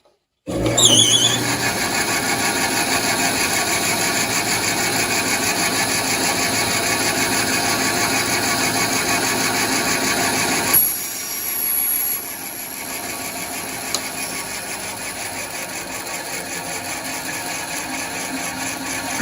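Table saw cutting part way into plywood, a loud continuous whine and roar near the mic for about ten seconds, then dropping to a lower rumble as the blade spins down, with no talk.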